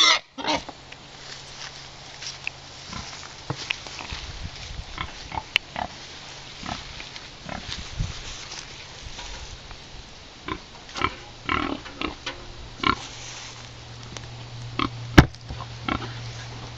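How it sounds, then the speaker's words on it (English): A pig grunts and snuffles close by, short irregular snorts and sniffs scattered over a quiet background. "Come here, pig. Pig. Pig. Come here."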